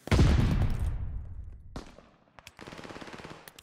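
Hip-fired gunfire in a multiplayer shooter game: a loud burst opens, decays with echo, then a rapid, evenly spaced string of shots follows, close and punchy.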